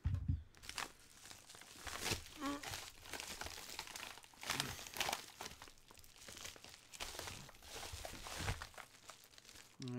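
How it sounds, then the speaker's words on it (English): Paper envelope and sticky tape being torn off and crumpled, repeated crinkling and ripping bursts in irregular bouts, close but fairly quiet, with a little background noise. "get rid of the envelope and some tape holding these on together"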